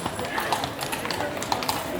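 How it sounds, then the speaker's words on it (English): Horses' hooves clip-clop past on a street in Krakow, Poland, a steady run of taps under busy street noise and constant talk. "We've got some horses going by right now."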